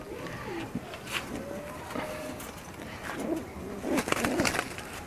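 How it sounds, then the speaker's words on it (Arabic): A pigeon held in a person's hand gives soft, low, repeated coos in short bursts, close by, with rustling and handling noise around it. "انا ماسك الحمام"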